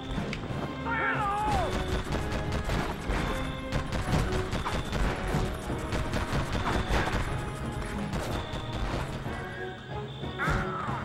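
Dense, continuous combat noise from the Vietnam War video game Conflict Vietnam: repeated crashing blasts and rapid gunfire pile up loudly without a break, with a voice shouting over the din.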